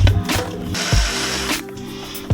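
A worm gear hose clamp is loosened and removed from a car's PCV hose during an air-oil separator install, giving several close ratcheting bursts of clicking tool action separated by short pauses.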